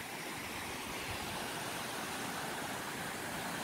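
Mountain river rapids roar far below a high cliff edge, a constant broad rushing wash with no breaks, moderately faint and heard alone.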